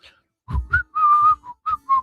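Someone whistles a short tune in clear, bright notes, several brief phrases with small gaps between them.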